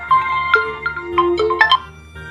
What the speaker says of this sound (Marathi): अगं आला ग फोन माझ्या रेशमीचा.